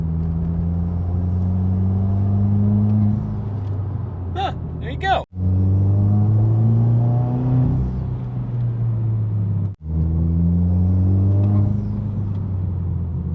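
A 2015-2021 Subaru WRX with the FA20 turbo engine and a new turbo inlet revs, its droning engine note rising as the turbo spools with a whooshing hiss. A voice is heard briefly, and the engine sound dips twice.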